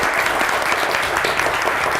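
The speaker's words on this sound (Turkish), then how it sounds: "Hadi bir alkışlar. verelim." Studio audience applause on a Turkish TV word-game show, a dense, steady wash of many hands clapping at even loudness throughout.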